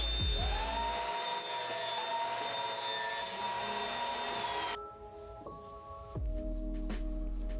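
A crosscut saw runs with a high, steady motor whine while cutting wooden boards in a woodworking shop. It briefly drops in pitch mid-cut, then spins back up close by.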